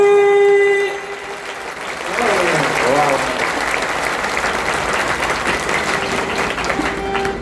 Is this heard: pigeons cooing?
no